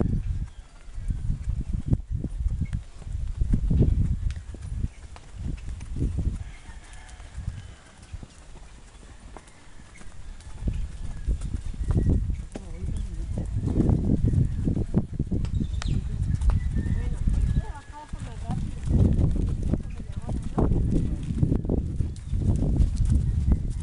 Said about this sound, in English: My horse finally moved.